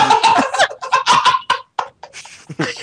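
A man imitates a turkey with loud, rapid gobbling and clucking bursts in short choppy phrases, close to the microphone in a radio studio, alone without other talk.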